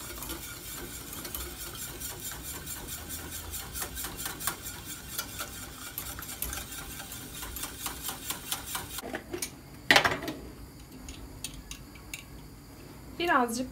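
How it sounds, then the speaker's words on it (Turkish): Tarhana soup stirred vigorously in a pot on the stove, a spoon scraping and ticking rapidly against the metal in a steady close rhythm, ending in a few louder clanks. "Şimdi hemen tarhanamı da ekliyorum ama bu esnada böyle bol bol karıştırıyorum."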